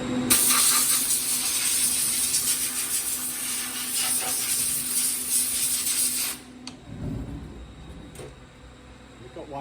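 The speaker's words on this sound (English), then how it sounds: "I'm just going to blow the airline in there." Compressed air from an airline blasting into the enclosure of a 1997 Haas CNC mill after a program finishes, a loud broad hiss lasting about six seconds, then cutting off to quieter machine-room noise.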